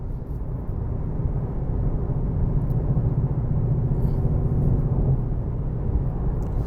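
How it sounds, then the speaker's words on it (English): Steady low-frequency cabin drone inside a heavy 2021 Shelby GT500 cruising at about 70 mph on the highway, a continuous rumbling hum with no speech. "A little bit of drone on the highway."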